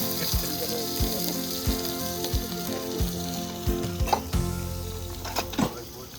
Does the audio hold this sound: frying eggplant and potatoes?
yes